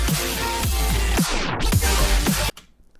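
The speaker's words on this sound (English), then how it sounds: "That's what tape stop does." Music slows and drops in pitch, sliding down to a halt like a tape winding to a stop; this happens twice, then cuts to near silence.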